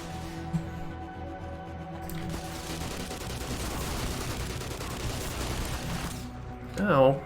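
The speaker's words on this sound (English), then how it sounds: "Oh, who's shooting me?" In the Fallout game, a sustained burst of rapid gunfire rattles toward the player, dense and continuous, then it cuts off abruptly near the end.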